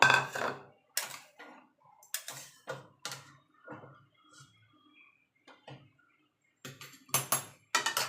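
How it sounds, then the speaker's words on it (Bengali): Metal pot lid set down over chicken curry with potatoes, a series of separate clanks and taps of metal and utensils, close and sharp with quiet gaps between them. "এবার ঢাকা দিয়ে ফুটতে দেবো"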